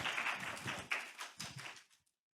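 An audience at a library workshop claps to welcome a presenter, giving a brief, moderately distant patter of applause that fades out after about two seconds.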